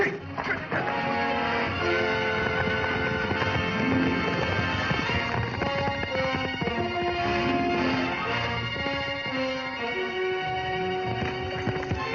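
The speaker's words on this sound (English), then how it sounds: "It looks like Nancy's horse" Horse hooves clip-clopping under a steady, dense music score, with a horse whinnying in a dramatic film scene; the hoofbeats are steady but partly masked by the music.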